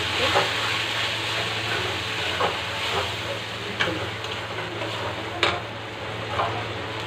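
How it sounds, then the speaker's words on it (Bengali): Boiled mung dal is poured into a pan of fried rui fish head, raising a steady loud hiss and sizzle that runs throughout, with a few faint clinks of a utensil against the pan. "এবার দিয়ে নেব একটু ডাল মুগ ডাল যা সেদ্ধ করে রেখেছি"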